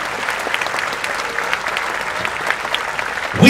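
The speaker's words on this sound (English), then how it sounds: "Give a round of applause to all of them" Large audience at a film launch event applauding, a full, even roar of clapping from a big crowd held steadily throughout, with a brief voice rising over it at the very end.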